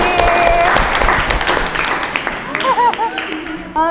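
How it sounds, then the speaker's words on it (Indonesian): A school class bursts into applause for a student named Vicky, a dense round of clapping close by with voices and cheers mixed in that tapers off after a few seconds. "kasih aplaus buat Vicky"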